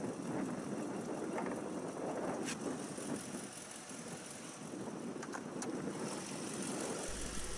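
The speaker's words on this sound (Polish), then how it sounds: "odpaliłem silnik, otworzyłem maskę i teraz przejdziemy zobaczyć, co tam takiego jest" A 2013 Suzuki Kizashi's 2.4-litre four-cylinder petrol engine, rated at 178 horsepower, idles with the hood open, a steady low rumble at even, fairly quiet level, heard on its own without talk.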